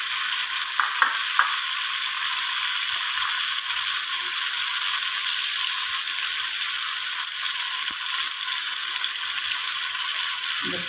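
A small onion frying in oil for a dum aloo dish, close and loud, with a constant bright sizzle and occasional stirring scrapes, no talking.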